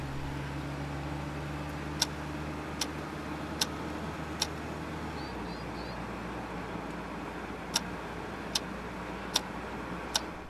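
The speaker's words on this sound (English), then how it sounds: "turn your left blinker on and exit left out of the roundabouts" Car turn-signal blinker ticking at a roundabout exit, sharp evenly spaced clicks over a low steady engine and road hum, with a pause in the middle of the sequence.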